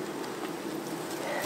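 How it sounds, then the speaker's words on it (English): Honey bees buzzing around an opened hive during a beekeeper's inspection, a faint continuous hum with no clear breaks, heard alone without talk. "get the bees out of the way"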